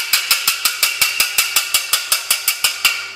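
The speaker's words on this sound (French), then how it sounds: "on va le mélanger à l'aide d'un fouet" A whisk beats a chocolate hazelnut mixture for a dessert, sharp clicking strokes against the bowl in a fast, very regular rhythm of about four per second, close and loud over a steady background hum.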